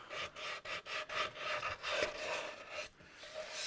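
Rhythmic back-and-forth scraping of sandpaper on a guitar body during a build, steady strokes repeating close by with no voices.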